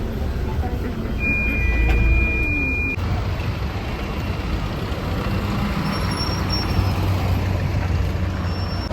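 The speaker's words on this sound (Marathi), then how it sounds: "फायनली 12:32 ला गाडी आली" A bus pulls in late at night, its engine a steady low rumble throughout, with a brief high beep early on over loud ambient road noise.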